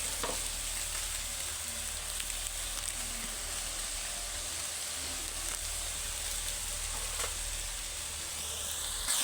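Spice masala of salt, turmeric and chilli powders sizzles in a pan while being cooked down for chicken kosha, a faint, steady frying hiss with occasional stirring clicks and no talking.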